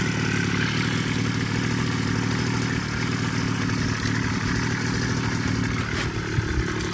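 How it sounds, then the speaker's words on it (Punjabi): An engine-driven sprayer pump used for spraying paddy crops runs steadily, close and loud: a continuous mid-pitched engine drone with a low throb and some mechanical clatter, with no voices. "ਲਾਲੀ ਨੇ ਇੰਜਣ ਕਰਤਾ ਸ਼ੁਰੂ ਪੰਪ"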